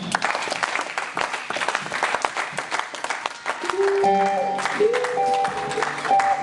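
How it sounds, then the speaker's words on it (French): Applause from a church congregation praising the Lord, a dense steady patter of clapping filling the room, with voices and sustained musical tones rising beneath it in the second half. "Nous acclamons pour le Seigneur"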